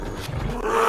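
A bear roars in the survival game SCUM during an animal brawl, a short, loud, rough and continuous roar that swells toward the end.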